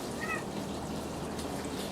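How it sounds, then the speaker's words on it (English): A calico cat gives one short, faint meow near the start, followed by a low background hiss with a hint of trickling water. "These cats, they never get enough attention."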